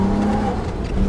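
Nissan Skyline GTR R32 on snow tires, floored from 4,000 RPM, gives a brief loud, close engine roar held at a steady pitch for about a second.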